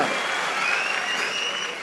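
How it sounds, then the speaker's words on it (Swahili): An audience at a political rally in Narok claps loudly and continuously, a dense, even burst of applause from a large crowd lasting under two seconds. "pigia makofi"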